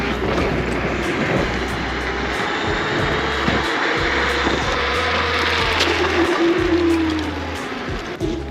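Dualtron Spider Max electric scooter pulling away from a standstill in mode 5, a steady whirring motor drone with rushing wind noise that rises in pitch as it gains speed, continuous and close throughout.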